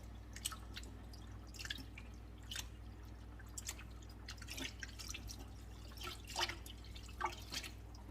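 Water drips and trickles quietly as boiled fresh rice noodles are squeezed by hand, with scattered small splashes in an irregular patter over a low steady background hum.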